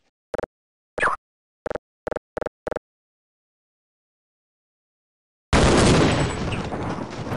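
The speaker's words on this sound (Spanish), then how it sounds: "se escuchan los disparos del sniper de aquí" Six short, sharp sniper shots from Half-Life VR, spread across the first three seconds with gaps between them, followed after a pause by a loud, dense burst of broadband noise.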